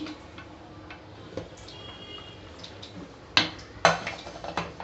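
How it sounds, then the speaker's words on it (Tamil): A pressure cooker holding chicken biryani is opened in a home kitchen: sparse metallic ticks lead to two sharper clanks of the lid, then a few lighter knocks, close by and with no talking. "இப்போ நான் குக்கரை வந்து ஓப்பன் பண்ணுறேன்"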